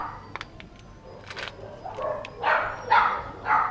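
Puppies in a dog shelter enclosure give a few small, thin yips and barks, close and moderately loud, spaced irregularly over quiet background.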